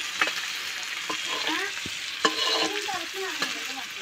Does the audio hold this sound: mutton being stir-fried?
yes